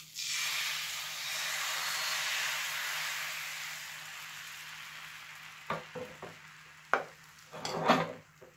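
Beaten egg with salt fries as thin crepes in a heated pancake pan, a steady close sizzle that fades slowly, followed by several light scrapes and clinks of utensils against the pan.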